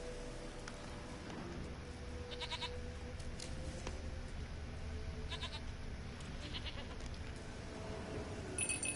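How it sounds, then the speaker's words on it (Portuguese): A goat bleating repeatedly in The Witcher III, several short wavering bleats at a moderate distance over a steady outdoor ambient bed. "Gente, mas que cabra maldita."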